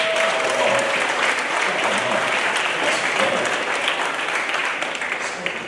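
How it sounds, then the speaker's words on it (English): Sustained, dense applause from a middle school awards ceremony audience celebrating the class of 2030, loud and steady throughout with faint voices mixed in. "Give them a huge round of applause."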